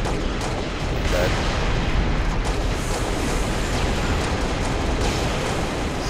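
Rocket and grenade launcher blasts in a Halo: Reach Big Team Battle Slayer match on Breakpoint make a loud, dense, continuous barrage of booming explosions and rumble, with voices faintly underneath.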